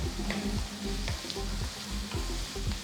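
Onions and green chillies sizzle and crackle in hot oil, with rhythmic scraping as they are stirred in the pan, close and steady.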